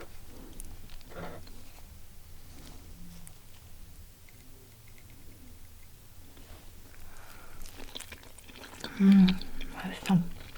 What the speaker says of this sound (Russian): Ну что, попробуем драники?